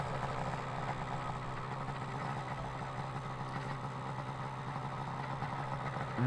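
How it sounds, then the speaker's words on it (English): Sky paramotor engine running during a slalom competition at a world championship, a continuous mid-pitched buzzing drone holding steady at moderate distance with no talk over it. "the inimitable sound of the Sky engine that he's using."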